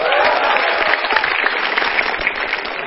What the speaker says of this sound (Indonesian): Tepuk tangan untuk Jui.